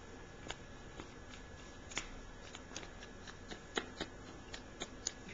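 A spoon stirs a homemade hair scrub mixture in a bowl, giving close, faint, irregular clicks and scrapes with no talking.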